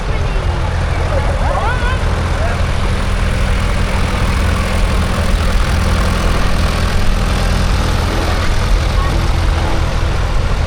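A narrow vineyard-model tractor engine runs steadily nearby in an arena at a transport festival, a continuous low rumble with a constant throb throughout.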